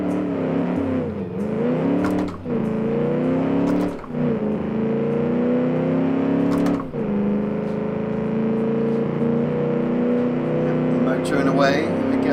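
A muscle car engine in a driving game drones steadily with shifting pitch, its hum rising and falling as the car accelerates, with a few brief sharp clicks along the way and no voice over it.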